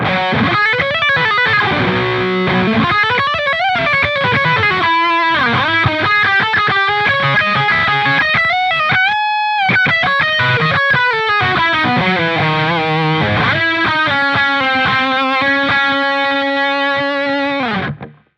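An electric guitar played through a Revv G3 distortion pedal plays a continuous metal solo with bending, sustained notes and quick runs, loud and unbroken until it cuts off at the end.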